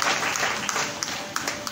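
A church congregation applauds during a Sunday service, a broad wash of steady clapping with a few sharper claps standing out near the end, fairly distant and diffuse.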